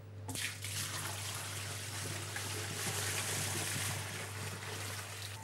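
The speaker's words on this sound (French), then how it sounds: "on commence par le lait entier, frais, que l'on verse dans le pasteurisateur" Fresh whole milk pours steadily into an ice cream pasteurizer, a continuous close liquid splash and trickle over a low machine hum, starting after a brief moment and running without pause.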